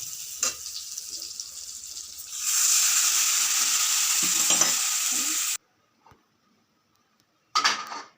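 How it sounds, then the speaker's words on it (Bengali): Egg curry gravy with ginger, garlic and onion simmering and sizzling in a pan, a steady hiss that swells louder midway, then cuts off into near silence before a brief burst returns at the end. "এই ঝোলটা ফুটতে থাকুক"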